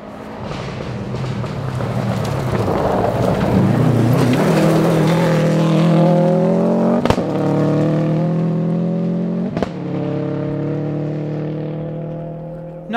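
All-wheel-drive rally car on the final stage of the 2012 Olympus Rally, engine rising loudly in pitch as it accelerates away under throttle with oversteer, steady roar fading slightly toward the end, no voices.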